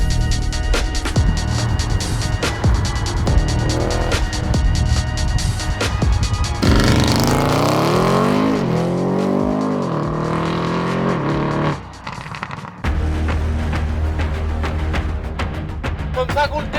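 A 700 hp Audi RS6 engine roaring close up, with sustained loud revving and rising and falling pitch sweeps partway through, then a brief dip before the roar resumes; a voice may be faintly present.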